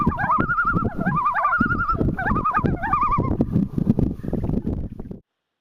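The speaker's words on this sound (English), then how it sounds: "I found loons, Canadian loons" A pair of common loons on Lake Wabatongashi, an Ontario lake in Algoma, gives wavering, yodel-like tremolo calls that repeat for several seconds over a steady rush of wind or engine noise.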